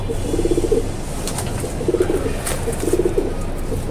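A pigeon coos nearby in three short, soft bursts of throaty, rolling notes, spaced about a second apart.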